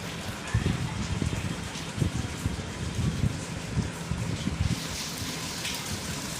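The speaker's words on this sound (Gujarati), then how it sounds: "આજે વરસાદ ઉઠ્યો ને એવો જ વરસાદ મળ્યો છે" Steady heavy rain falls outdoors, a dense continuous patter of drops spreading evenly across the whole stretch with no voices heard.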